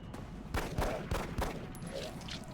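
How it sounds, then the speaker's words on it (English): Rapid-fire pistol shots in the video game XCOM Enemy Within, aimed at a flying enemy: a quick burst of several sharp synthetic gunshots under a steady game soundtrack, fairly prominent without speech. "I'm gonna take my chances with a rapid fire pistol shot at that"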